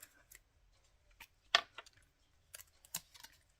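A handful of short, crisp snips and clicks from ergonomic scissors cutting paper, scattered irregularly and fairly close, with quiet pauses between them.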